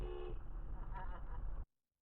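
A car horn honks in a traffic scene, a loud, harsh tone held for about a second and a half before cutting off abruptly into silence.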